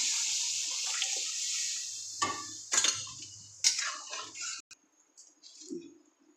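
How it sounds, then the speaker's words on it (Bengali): Cooked dal is poured into a fried spice mixture with plenty of hot oil, giving a steady hiss and splash that breaks into a few sharp splashes and clatters, then fades to scattered faint sounds. "এবার আমি ডালটাকে ঢেলে দেবো"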